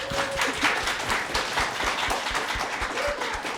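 A crowd claps steadily in applause, a sustained patter of many hands, moderately loud, with a faint tone sounding briefly at the start and end.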